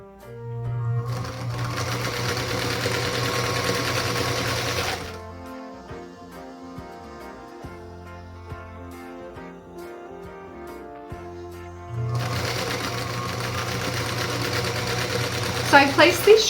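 Sewing machine stitching paired quilt triangles right sides together for a Spider Star quilt block; a steady close hum runs in two long bursts with a quieter gap between.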